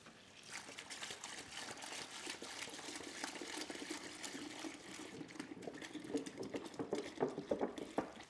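Milk pours into a large clean bucket for an ice cream mix, a steady liquid gush and splash running throughout at moderate level, growing more burbling toward the end.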